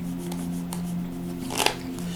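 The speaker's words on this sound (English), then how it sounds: "let's go ahead now and shuffle the cards" Tarot cards are shuffled quietly with a brief, sharper riffle partway through, over a steady low electrical hum.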